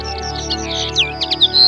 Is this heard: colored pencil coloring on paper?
no